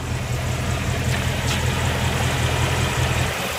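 A 2019 Ford Mustang GT Premium's 5.0-litre Coyote V8 idles steadily with a deep, even rumble, close and alone with no talk.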